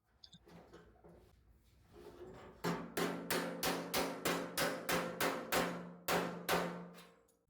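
A hammer straightens a steel car body panel during a rear-section splice in auto restoration. About a dozen loud, evenly spaced metallic blows ring out close by, after a quieter stretch of low shuffling work noise.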